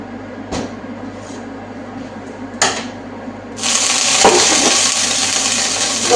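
A frying pan heating on the stove breaks into a loud, continuous sizzle partway through, preceded by a few sharp clanks and knocks of cookware.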